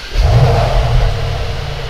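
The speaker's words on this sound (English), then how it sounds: "I will start the engine with the emotion start" A 2021 Mercedes-AMG E63 S facelift firing up in Sport Plus mode, a loud low engine roar swelling right after ignition and then settling into a steady, rumbling idle, heard close with no talking.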